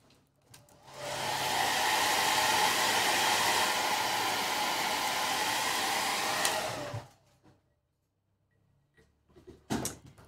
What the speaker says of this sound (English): Let me give it a shot with the blow dryer.